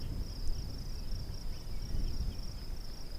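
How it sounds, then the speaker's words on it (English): Crickets at a dinosaur dig site in Montana give a steady, unbroken high chirping drone across the whole stretch, set against low outdoor wind rumble. "I'm also hearing crickets"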